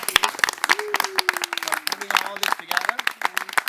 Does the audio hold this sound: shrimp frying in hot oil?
no